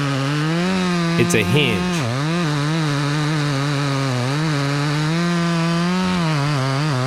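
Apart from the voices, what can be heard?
chainsaw cutting open face notch in tree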